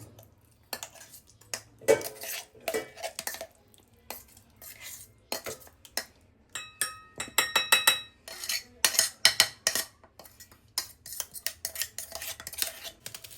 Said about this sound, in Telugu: ఇప్పుడు దీన్ని ఒక గిన్నెలోకి షిఫ్ట్ చేసుకుందాం